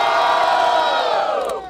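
A large crowd at the Batalha da Aldeia rap battle in Barueri, São Paulo, roars and cheers loudly during the second round, a dense sustained shout that tapers off toward the end.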